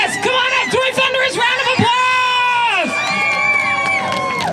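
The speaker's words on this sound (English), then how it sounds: "They're chanting for you." A crowd at a Six Flags Great Adventure Fright Fest opening-night show chants and cheers loudly, with high whooping and shouting voices, including children, rising and falling in a rhythmic, drawn-out chorus.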